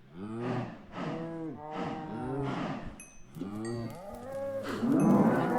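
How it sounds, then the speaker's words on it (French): Cows mooing repeatedly in the Minecraft survival game, a series of drawn-out low moos one after another, close and loud, with no talk over them. "Une vache encore."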